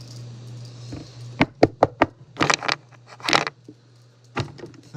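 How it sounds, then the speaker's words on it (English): Knuckles rap on a wooden surface during a broadcast of an NBA basketball game, Boston at San Antonio, with a cluster of sharp, close knocks in quick succession, then a few scattered louder thumps over a low steady hum. "The knocking on wood works, Marv."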